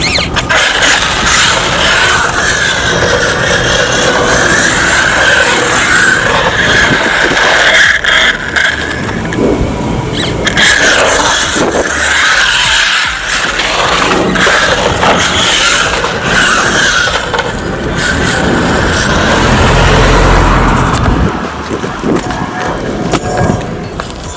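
An RC car fitted with drift tires, styled as Mater, drives and drifts outdoors, giving a loud continuous rush of whirring motor and scraping tires that swells and dips for over twenty seconds.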